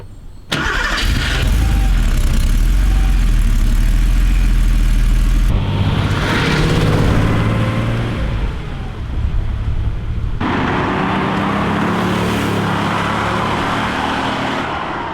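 A Porsche 930 Turbo starts and then runs with a loud, close engine roar, the note shifting in sections as the car is driven, with no speech over it.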